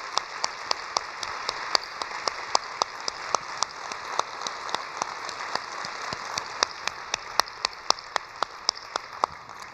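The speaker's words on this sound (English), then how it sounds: "Please stand and give them a round of applause." An audience at a leadership speaker conference applauds for a standing guest, producing steady continuous clapping with crisp individual claps popping out across the whole stretch, and no talking.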